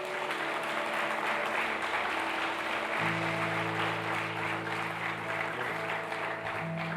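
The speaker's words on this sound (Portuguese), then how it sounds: "Você pode aplaudir o Senhor por isso?" Church congregation at a family worship service applauds, a steady, fairly quiet wash of clapping under a sustained organ or keyboard chord.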